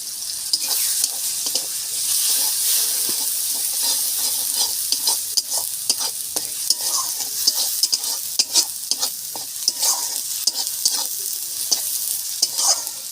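Spices with turmeric and Kashmiri chili powder fry for a katla fish kalia: a loud, continuous oily sizzle with frequent spatula scrapes and taps against the pan throughout.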